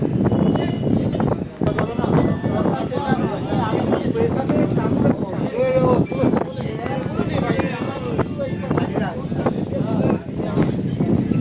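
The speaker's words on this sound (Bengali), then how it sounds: "আশা করছি তোমরা হাওয়ার আওয়াজ শুনতে পাচ্ছ।" Strong, cold wind gusting at a Ganges riverside ghat, buffeting the microphone in loud, uneven bursts while a person talks over it throughout.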